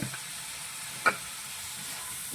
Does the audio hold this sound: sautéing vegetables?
yes